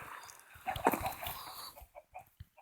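Chickens clucking in Minecraft Pocket Edition, a few soft, scattered clucks over a faint low background hum, no talking.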